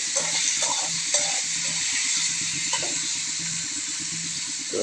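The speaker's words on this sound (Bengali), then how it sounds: "এখানে দিয়ে দিচ্ছি তেল আর পেঁয়াজ ভেজে নিচ্ছে" Onions frying in oil in a pan for a puti fish curry, a steady bright sizzle with periodic soft scraping and stirring knocks, close and continuous, no speech.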